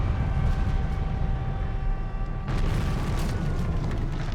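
Naval air battle in Victory at Sea Pacific, enemy planes shot down over the Solomons, a dense unbroken roar of booming explosions and gunfire, loud throughout with a fresh burst of blasts midway.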